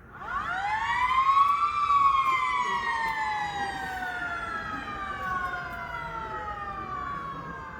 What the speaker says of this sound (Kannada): ಸ್ಕೂಲ್ ಬಿಡೋ ಸಮಯ ಆಯಿತು, ಅದಕ್ಕೋಸ್ಕರ ಈ ಸೈರನ್ ಹಾಕ್ತಾರೆ ಬಿಡೋ ಟೈಮಲ್ಲಿ.